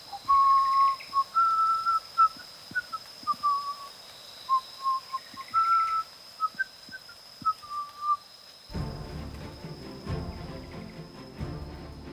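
Someone whistles a slow, soft melody in short phrases, quiet and close, before it stops and a rustling noise takes over near the end.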